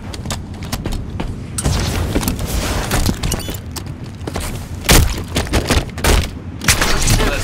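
Heavy thudding booms and rolling blasts from rocket launchers in a Halo 5 multiplayer match, loud and overlapping, with several sharper impacts near the end and a faint announcer voice.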